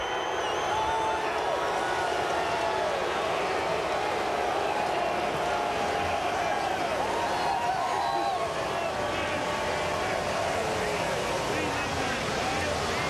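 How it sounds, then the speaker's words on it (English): A mixed crowd at Bristol's half-mile NASCAR track roars continuously and loudly after a Nationwide Series race win, a dense wash of cheering that persists for the whole stretch, with talk running over it. "You hear the crowd."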